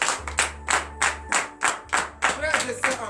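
A congregation at a morning prayer service claps in unison for God, about nine strong rhythmic beats in an even pulse, with a low sustained tone and some voices underneath.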